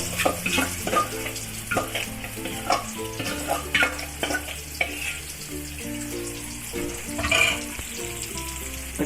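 Handvo batter hits a hot pan over a sesame and curry-leaf tempering, sizzling and frying loudly and close, with stirring and clattering utensil sounds and a brief running-water splash near the end.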